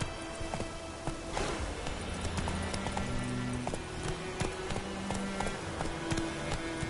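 Roach, a horse in The Witcher 3, runs with quick, rhythmic hoofbeats thudding steadily over a soft background, fairly close and moderate in level, with no talk.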